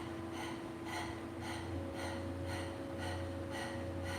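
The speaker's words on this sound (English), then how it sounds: "you want to listen to the sound of the breath" Rapid Breath of Fire breathing repeats as sharp, evenly spaced nasal puffs, roughly two per second, close and clear against a low background hum.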